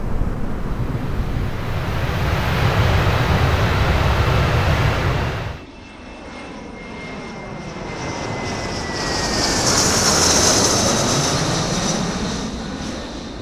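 An Aeroflot passenger airliner takes off from Moscow with a loud, broad engine roar that cuts off abruptly partway through, then gives way to a distant whining jet hum that swells and fades.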